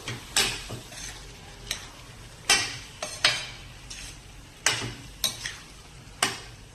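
Drained pigeon peas stirred into oily gravy in a pot for tuver totha, with a series of sharp spoon scrapes and clanks against the metal at an uneven pace over a faint sizzle.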